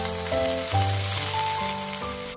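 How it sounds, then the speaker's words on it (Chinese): Shredded cabbage stir-fried in a wok over high heat gives off a steady, close sizzle with a faint hum underneath, with no talk. "咱们开大火先把包菜煸炒一下"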